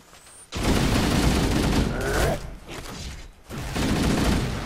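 Hunters fire their heavy weapons in the Halo level The Silent Cartographer. Dense, roaring bursts of gunfire come in three loud waves with short dips between them, and no one speaks.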